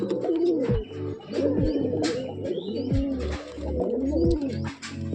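Pigeons at home coo in repeated low, rolling calls close by, each swelling and falling in a steady rhythm, four or five cycles in succession with faint chirps and rustling behind.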